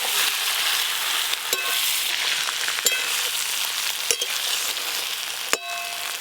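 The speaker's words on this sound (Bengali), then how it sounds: "এবার ওপর দিয়ে মাছের তেলটা দিয়ে দেবো।" Fish oil poured over Malabar spinach, potato and pumpkin frying together in a pan gives a steady, close sizzle, with a few sharp clinks of a spatula stirring the vegetables.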